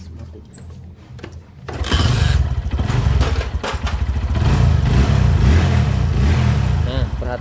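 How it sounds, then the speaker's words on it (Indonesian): A Honda Verza motorcycle with a newly replaced piston, smoking and running slightly rough, idles quietly, then its engine rises into a sustained, close rev as the throttle opens and is held. "Perhatikan suaranya sangat halus sekali pada saat kita tarik gas."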